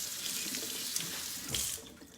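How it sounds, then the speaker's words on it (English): A tap runs into a sink for handwashing, a steady soft hiss of flowing water with small splashy changes as hands move under the stream. "I need to wash my hands."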